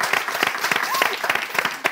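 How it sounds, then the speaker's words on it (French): Lively crowd applause at an entertainment show with dance competition, quick dense clapping from many hands with a few sharper claps standing out, loud and close over a short burst, with some voices mixed in. "Applaudissez pour ça."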